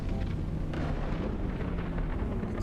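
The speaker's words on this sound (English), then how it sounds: "Crack of thunder." A crack of thunder rolls through a night drive in the racing game Assetto Corsa, a broad low rumble sustained over continuous ambient noise and music, with a brighter burst near the start.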